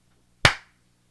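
A single sharp hand clap, close and loud, rings out once against a quiet background with a faint low hum, decaying quickly.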